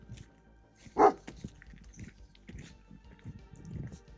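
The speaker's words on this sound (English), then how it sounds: "That wasn't a meow, that was a woof." A dog gives a single loud woof on a rural farm in Portugal, with quieter household and outdoor noises continuing around it.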